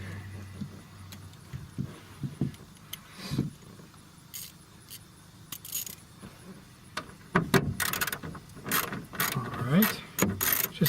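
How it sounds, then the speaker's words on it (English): A 1/4 inch drive ratchet with an 8mm socket turns a bolt holding a speaker in a 2006-2011 Honda Civic, giving scattered clicks and clatters, with denser ratcheting toward the end. "This is a 1/4" drive ratchet with an 8mm. Get that started."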